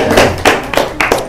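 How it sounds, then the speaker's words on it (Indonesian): A crowd of local community figures and neighborhood leaders clapping, heard as a few loud bursts of hand claps close by, each swelling and fading in quick succession. "Tepuk tangan."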